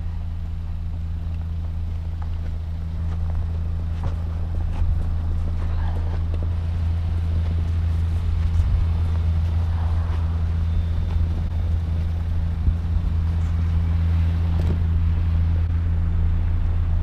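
A Kia Rio X-Line 1.6 driving on the road, its engine giving a steady, loud low drone inside the cabin, mixed with constant road and wind noise.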